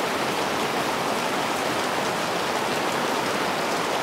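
Steady, dense rain pours through a typhoon night in Taipei, a continuous broadband hiss of drops on surfaces that stays constant throughout with no voices.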